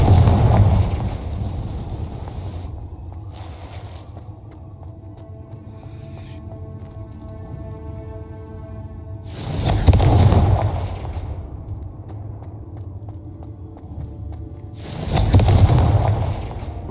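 Booming spell explosions in a Harry Potter video game, with a sustained rumbling blast at the start and two more heavy bursts later, loud and roaring over a low ambient hum.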